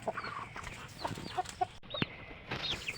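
Pet chickens cluck in short, scattered calls, close by, with a few brief higher squawks among them and no talk.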